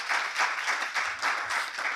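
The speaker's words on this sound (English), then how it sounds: "I want us to give our law enforcement officers a special round of applause" A press-conference audience gives law enforcement officers a round of applause, two seconds of dense clapping with a gentle pulsing rhythm, close and fairly loud, with no talking over it.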